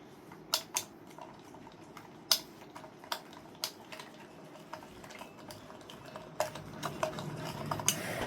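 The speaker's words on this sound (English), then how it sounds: "I'm stirring it. I think the baking soda has to dissolve." A baking soda mixture for a lava lamp experiment being stirred in a container, with sharp clinks and taps of the spoon against the sides at an uneven rhythm, close and fairly quiet, growing busier toward the end.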